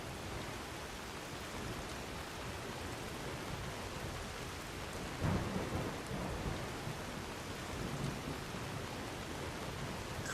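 Video game thunderstorm over an open field: constant rain hiss with a muffled thunder rumble about midway, fairly quiet and even, no voices.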